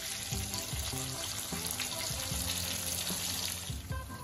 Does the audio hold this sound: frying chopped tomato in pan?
yes